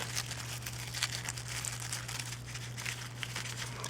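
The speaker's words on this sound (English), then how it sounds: "This is a black plastic bag." A black plastic shopping bag crinkles and rustles continuously as it is folded up small, the crackling close and steady over a faint low hum.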